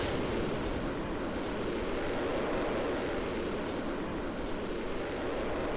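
A rocket launch in the video game Kerbal Space Program, a loud, unbroken engine roar that fills the clip at full steady force with no talk over it.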